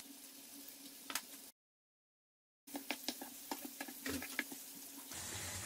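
Minced meat salted and browning in a pan at home, a steady low sizzle with scattered stirring scrapes and small pops, broken by a short silent gap, no talk.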